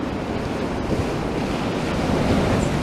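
Sea surf rolls onto the shore beside Blackpool promenade, a steady, close rushing wash mixed with wind buffeting the microphone, no voices.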